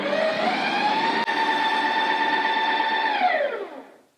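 Ninja Creami machine running its mix-in cycle on vegan walnut cashew cinnamon ice cream, a steady high motor whine with a brief click partway, then winding down to a stop.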